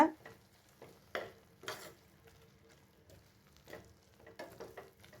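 Chili masala being stir-fried in a pan for crab gravy, with soft intermittent sizzling and scraping stirs recurring every second or so, fairly quiet and close, with no voices.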